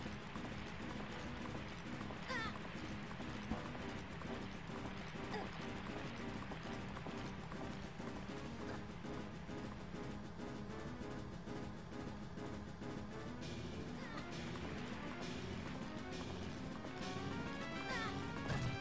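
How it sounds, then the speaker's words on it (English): Hooves of a horse galloping in The Legend of Zelda: Majora's Mask, a fast continuous clip-clop rhythm mixed with game music and effects, with someone talking over it. "And now he's trying to get away with my horse."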